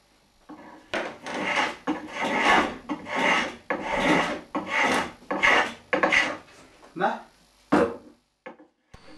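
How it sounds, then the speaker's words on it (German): Repeated rasping strokes at close range as a tool tapers the limb ends of a hazelnut flatbow, about a dozen steady scraping passes that slow and fade near the end. "wieder auf beiden Seiten der Wurfarmenden schön verjüngen"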